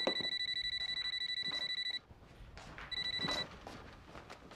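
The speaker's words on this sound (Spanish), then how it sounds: "¡Ay, el teléfono!" A telephone rings in rapid electronic trills, a long burst followed after a pause by a shorter one, fairly soft, with faint movement and background noise around it.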